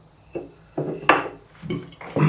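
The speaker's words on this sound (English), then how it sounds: "what I'm going to do now is, I'm going to cut some sandpaper ready to glue on there." Sandpaper being cut for gluing onto a 1964 Rickenbacker 330 guitar renovation, heard as four or five separate short rasping, scraping strokes spaced across the clip, close and fairly loud with no talking.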